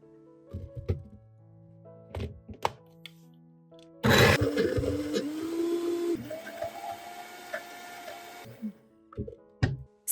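Garlic cloves ground to a medium-fine texture in a kitchen grinder or food processor, a steady whirring motor run of several seconds framed by a few clunks and taps before and after.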